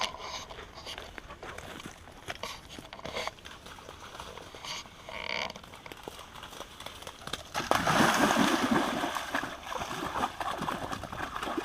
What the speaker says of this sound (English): Go in the water, Brune.